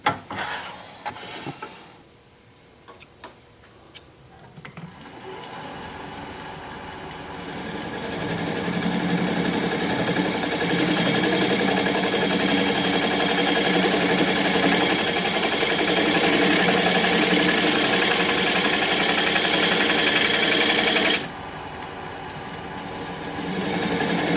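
A wood lathe spins a walnut crotch piece while a tool cuts it, giving a loud, steady whirring hum with a grinding edge that rises after a few seconds of quieter scraping and eases near the end.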